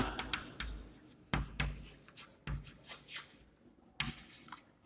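Chalk or marker strokes on a board during a Class 7 maths lesson on integers, a series of short scratchy bursts with pauses between them, close and moderately loud, with a faint voice in the background.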